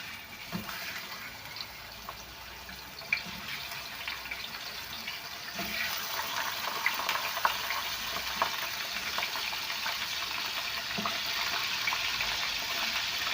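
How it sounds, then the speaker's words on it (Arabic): Chicken pieces are lowered bone side down into hot oil in a baking tray, giving a soft, steady sizzle that grows slightly louder and denser, with faint crackles and no talking. "كده عندي الزيت سخن، ننزل بالفراخ من ناحيه العظم كده"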